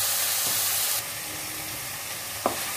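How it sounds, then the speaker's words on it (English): Cauliflower and mixed vegetables fry over high flame in a pan, giving a steady close sizzle and hiss with a brief stir or clatter near the end. "And also put directly and fry the ingredients well."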